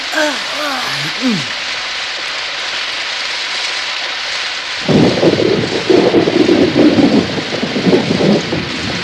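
Steady heavy rain pours with a low rumble of thunder, loud and continuous, growing heavier partway through, with a voice speaking briefly at the start.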